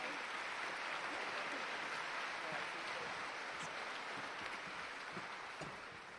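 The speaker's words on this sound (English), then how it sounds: "if we could give our platform a round of applause" A Labour Party conference audience claps in a steady, dense wash of applause that fills the hall and fades slightly at the end, with no talk over it.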